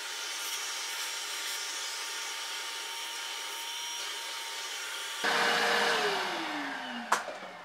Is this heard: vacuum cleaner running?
yes